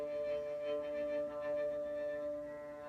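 A cello open string bowed with too little pressure, giving a thin, steady sustained tone with a faint airy, whistly edge that holds for about three seconds alone.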